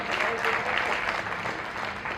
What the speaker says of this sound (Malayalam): കൈയടിക്ക് ശക്തി പോരല്ലോ